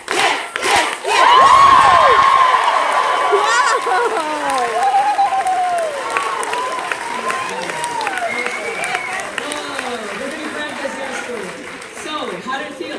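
A live audience at an event in Birmingham erupts in loud, sustained cheering, shouting and applause, a dense crowd roar that holds strongly for several seconds and then continues at a slightly lower level with voices mixed in.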